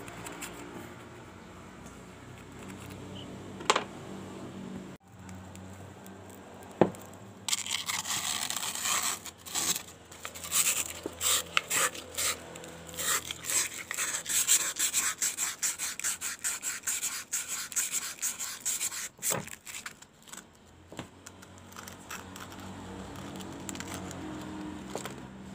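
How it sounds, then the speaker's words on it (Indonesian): Fine sandpaper rubbed by hand over a motorcycle clutch part, faint scratchy strokes at first, then a long run of brisk rhythmic rasping close by, tapering off near the end. "Kita menggunakan amplas yang sedikit halus."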